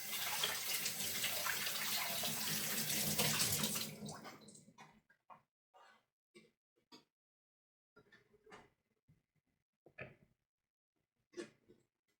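Tap water runs steadily over strawberries for about four seconds, then stops, followed by scattered drips, light handling knocks and small splashes in a quiet kitchen.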